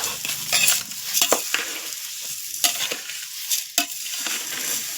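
Spices being stirred and dry-roasted in a pan for homemade masala, a scraping spoon making irregular clinks and scrapes over a soft sizzle, close up.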